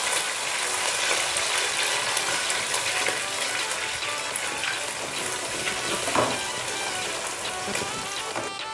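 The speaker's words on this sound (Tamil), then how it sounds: "எண்ணெய் சூடாயிடுச்சு. இப்போ நம்ம ஒரு 4 முட்டையை ஊற்றிக்கலாம்." Four eggs poured into hot oil in a pan and stirred while cooking for chicken noodles, giving a loud, steady, dense sizzle and crackle that fills the whole stretch without any talking.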